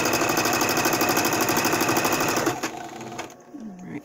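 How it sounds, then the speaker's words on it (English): A sewing machine stitching a fabric face mask runs at a steady, fast mechanical chatter for about two and a half seconds, then slows and stops with a few clicks and fabric rustles, close up with no talking. "I'm going to hold on to that and start sewing at the end here."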